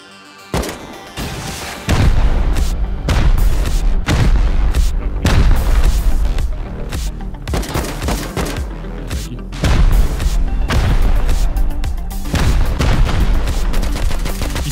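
Explosives blowing up a base during a raid in the game Rust, a long run of loud booming blasts and sharp gunfire-like cracks in rapid succession, close and heavy.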